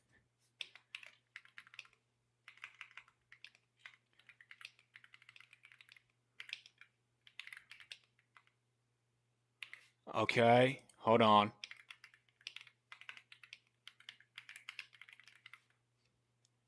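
Computer keyboard typing in scattered bursts of quick, close clicks, with pauses between runs; a person speaks briefly partway through.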